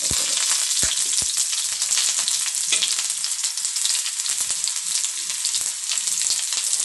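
Mustard seeds spluttering in hot oil, a dense close crackle and sizzle throughout with sharp sporadic pops, steady and loud with no voices.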